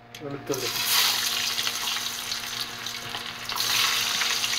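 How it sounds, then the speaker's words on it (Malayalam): Curry leaves and chopped ingredients frying in hot oil for a camel fry, a steady broadband sizzle that swells after a brief clatter at the start and rises again near the end, close and fairly loud. "എണ്ണ ചൂടായി കഴിയുമ്പോൾ കുറച്ച് കറിവേപ്പില ഇടുക."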